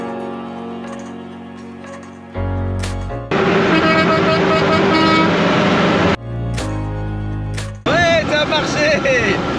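Long, loud blasts of a deep truck horn on Ocean Drive, Miami, two sustained honks separated by brief pauses, close by with traffic rumble around them.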